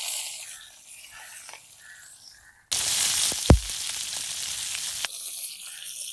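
Cumin seeds hit hot oil for a Mullaitivu-style seafood curry: quiet kitchen ambience, then a sudden loud sizzle bursts in midway with a sharp pop and keeps hissing steadily, easing slightly toward the end.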